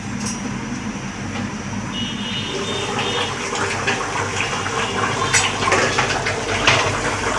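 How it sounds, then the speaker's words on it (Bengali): Beef curry bubbling steadily in an open pot on a gas stove after the lid comes off, a dense, even hiss and simmer with soft popping throughout. "এই তো দেখেন বলক চলে আসছে, অলরেডি কিন্তু ঝোল উঠে গেছে।"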